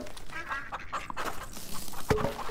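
Ducks quack in the Farm Together video game amid soft background game sounds, with a few short calls and one clearer quack near the end.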